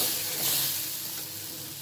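Spice masala of chili, turmeric and garlic paste with salt sizzles steadily in a hot pan for dried-fish curry, a dense continuous frying hiss with faint stirring, ending in a brief louder scrape.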